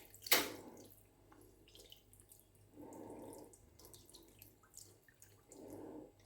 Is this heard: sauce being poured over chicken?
yes